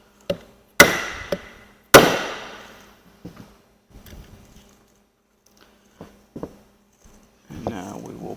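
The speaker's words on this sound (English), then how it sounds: "We'll give this a tap to seat the stator down properly." Sharp taps seat the stator down on a FLUX F458 electric motor during maintenance, a few loud knocks followed by scattered quieter clicks and handling noises, close up with no talking.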